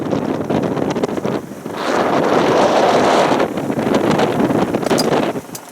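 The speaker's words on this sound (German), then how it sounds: "wir haben jetzt heute doch wesentlich mehr Wind als gestern" Strong wind roars steadily across the microphone while a sailboat runs at about six knots on a beam reach toward Korčula off Croatia, loud gusty buffeting with water rushing underneath and no talking.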